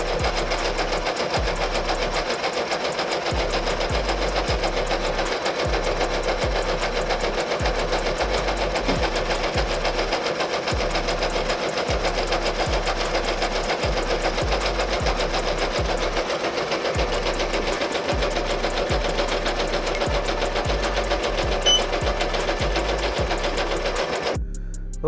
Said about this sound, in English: It's giving us that beautiful satin stitch